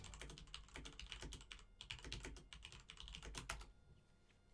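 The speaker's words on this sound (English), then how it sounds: "I've got to actually type this one." Quick, close typing on a computer keyboard in a casual FPV drone hobby session: a steady stream of sharp key clicks at an uneven rhythm with brief pauses, faint overall and with no talk.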